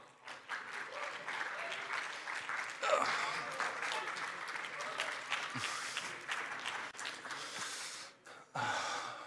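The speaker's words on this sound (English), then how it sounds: "Big round of applause for Danny, Daria, and Avril" An audience at a Web3 community-building panel claps to welcome panelists onto the stage, moderately loud, with breaths and scattered voices mixed in before the clapping trails off near the end.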